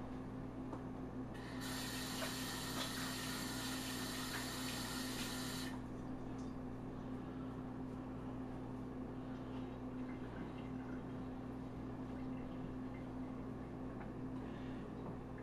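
A tap runs with a few seconds of hissing water as hands are washed at a sink, set against a low, constant background hum and otherwise quiet surroundings.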